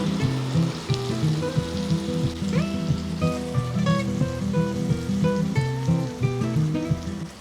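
Curry leaves crackle and sizzle in hot ghee in a pan for an anjal (kingfish) ghee roast, a steady, close frying hiss with bubbly pops beneath a music track.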